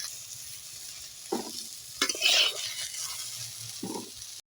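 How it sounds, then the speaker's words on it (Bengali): Eggplant pieces frying in hot oil for a Bengali home-style dish, a steady soft sizzle with brief louder bursts of stirring and spatula scrapes, close and continuous with no talk. "এবার আমি বেগুনগুলো ভেজে নেব"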